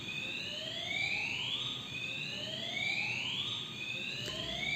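A building fire alarm, sounding while alarms are being replaced, wails in repeated rising sweeps, a steady electronic siren cycling about once a second, loud and continuous throughout.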